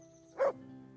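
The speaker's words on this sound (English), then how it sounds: "From this moment on, you have a canine companion." A single short dog bark in Kingdom Come: Deliverance, close and clear over a faint low background hum.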